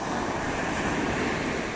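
Ocean surf at low tide roars steadily along the shore near a traditional fishing spot in the Philippines, a continuous broad wash mixed with wind buffeting, close and loud with no voices.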